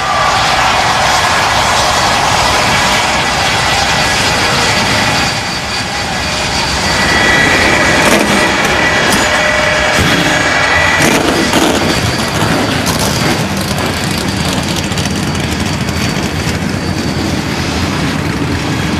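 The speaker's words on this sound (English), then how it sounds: "the engines have been fired" NASCAR stock car engines firing up and roaring together at Richmond before the 2002 Pontiac Excitement 400 night race, a loud continuous engine roar that swells and holds throughout with crowd and ambient noise blended in.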